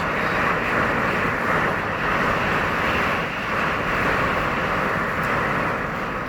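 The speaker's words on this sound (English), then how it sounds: "Ooh, another one. Another big gust." Strong storm wind gusts at a Pirateland campground in Myrtle Beach, heard as a loud, steady roaring rush that swells slightly throughout, with no voices.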